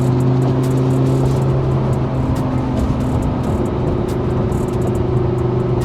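A 2009 Lamborghini Gallardo LP560-4 twin turbo engine rumbles loudly and steadily nearby, its revs shifting partway through on a downshift, with no talking.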